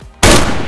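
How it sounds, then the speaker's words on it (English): A single loud, abrupt shot from a 7.62x39 rifle in a video game, a sharp blast that bursts out of quiet background and decays into a brief, heavy rumble. "I'll be shooting for center mass."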